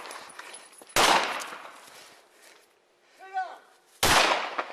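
Gunshots ring out during a police shootout, two loud close blasts a few seconds apart, with a brief burst of radio or voice noise between them.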